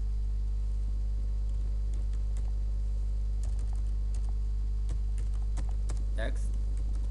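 Scattered keystrokes on a computer keyboard while writing C code, light irregular clicks that cluster toward the end, over a constant low electrical hum.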